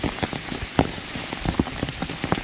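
Rain falling outdoors, a dense continuous patter of raindrops striking a surface close by, with scattered sharper drips and no voices.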